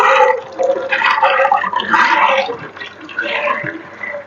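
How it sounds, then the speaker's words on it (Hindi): Water is poured into a pressure cooker over soaked chickpeas, giving a loud, close, continuous splashing and gurgling pour that lasts about four seconds with slight surges. "इसको धोकर वॉश करके सारा अच्छी तरह पानी ड्रेन करके मैंने और पानी डाला है"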